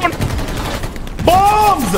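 Bombs exploding in the game Hell Let Loose, heard as dense, rumbling blasts and crackling bursts that fill the first second, followed by a voice calling out over the lingering noise.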